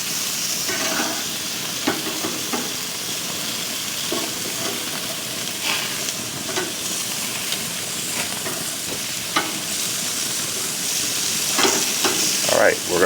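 Sausages fry in a pan with a steady, close sizzle and hiss, broken now and then by faint scrapes and clicks of turning.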